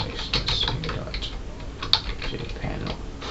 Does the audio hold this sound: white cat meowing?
no